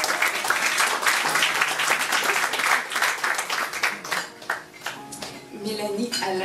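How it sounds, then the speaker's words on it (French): An audience breaks into loud, sustained applause and cheering, dense clapping that dips briefly before a voice speaks over the fading claps near the end. "on l'applaudit"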